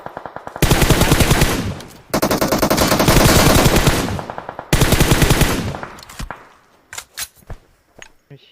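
Rapid automatic gunfire in the PUBG Mobile battle royale game, loud sustained bursts with brief gaps, then a few separate single shots trailing off at the end.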